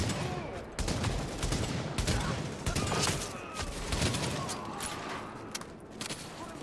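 Gunfire in The Division's Dark Zone, dense rapid automatic fire in sustained bursts with brief pauses, loud and close, with talking and game voice lines mixed in.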